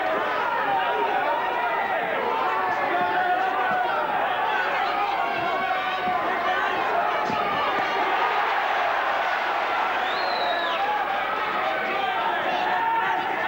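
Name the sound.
boxing crowd and corner clapping and cheering punches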